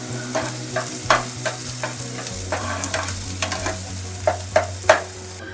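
Onions fry in oil in a pan for a curry, a steady close sizzle broken by repeated scraping stirs and spatula knocks, with no voices.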